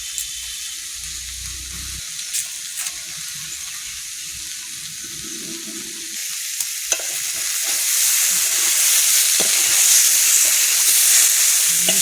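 A curry of cauliflower, tomato and potato with fish is stirred and pushed to the middle of a frying pan, with scraping spatula strokes over a soft sizzle. The sizzle grows louder and more hissing in the final few seconds.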